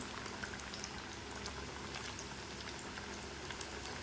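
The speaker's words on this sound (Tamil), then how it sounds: "எப்படி எண்ணெய் கொதிக்குது பார்த்தீங்களா?" Oil bubbles and crackles vigorously while deep-frying banana flower fritters, a steady dense sizzle with popping spatters throughout, close and moderately loud.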